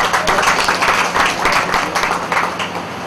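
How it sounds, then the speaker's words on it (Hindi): An audience at a song launch event claps for the union in a steady crowd ovation with rhythmic bursts, fairly close and continuous for about three seconds. "तो एक बार इस यूनियन की जोरदार तालियां हो जाए।"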